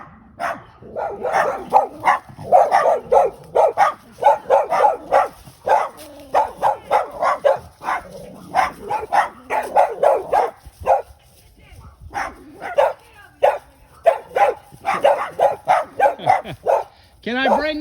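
Several dogs bark repeatedly in loud, close bursts with yips and whimpers mixed in, nearly continuous for the whole stretch while a person talks among them.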